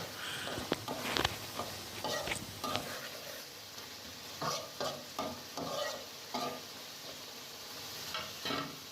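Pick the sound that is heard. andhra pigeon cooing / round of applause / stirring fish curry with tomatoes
stirring fish curry with tomatoes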